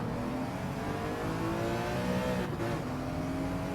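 Race car engines, including a BMW, in Gran Turismo 7 hold a steady, loud droning whine with rising and falling revving tones, several engines layered close together throughout.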